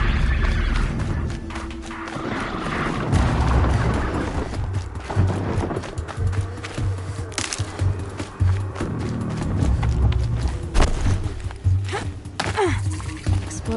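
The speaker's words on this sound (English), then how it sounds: "Explosions and shouts from outside of the embrace." PS4 video game battle outside an embrace, a dense stream of thuds, bursts and blasts with shouting voices in the background, continuous and fairly loud across the whole stretch.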